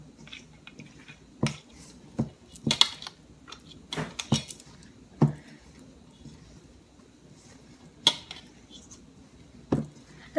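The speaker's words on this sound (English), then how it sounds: "Cover this bowl up with aluminum foil." Aluminum foil is pulled over a bowl of patongko fried-breadstick dough: sparse, close crinkles and light taps come in separate bursts over a quiet background.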